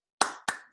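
Two distinct sharp claps, close and crisp with a short gap between them, standing alone against near silence as a small virtual e-clap during an online physics seminar.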